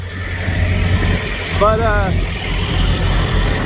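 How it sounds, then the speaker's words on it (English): Steady low engine drone of idling truck refrigeration unit (reefer) engines running nearby in strong wind, with a brief warbling whine in the middle; someone talks over it. "I just come over by the reefer motors that are running, reefer engines"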